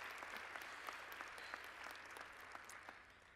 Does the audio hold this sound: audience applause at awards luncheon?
yes